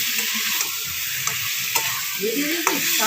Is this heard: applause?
no